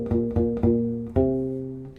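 Bar 13 of the verse riff from a song on a U-Bass: four short, round, plucked low notes followed by a longer sustained one, played alone and close.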